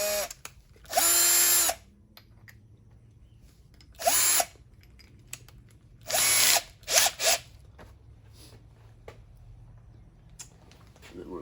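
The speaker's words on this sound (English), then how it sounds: "got a 1/7 inch Forstner bit" A power drill fitted with a 1/7 inch Forstner bit whirs in three short close bursts, the last one broken into quick pulses, with quiet pauses between them.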